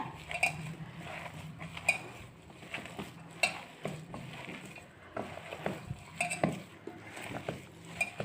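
Beef roll filling is mixed with breadcrumbs in a bowl, with irregular spoon clinks and scrapes against the bowl and soft stirring, quiet and close.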